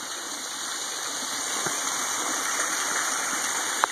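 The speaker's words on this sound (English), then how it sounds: "Coolest waterfall I've ever seen." The waterfall at the bottom of Escondido Canyon roars in a steady, dense rush of falling water, close and continuous, with a couple of faint clicks near the end.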